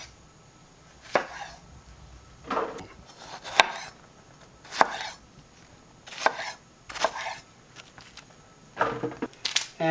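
A knife rough-chops vegetables for enchilada sauce, including Spanish onion, on a cutting board, with sharp irregular thunks landing about once a second in small clusters, close and distinct with no talking.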